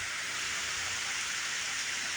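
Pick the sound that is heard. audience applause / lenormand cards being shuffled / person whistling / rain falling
rain falling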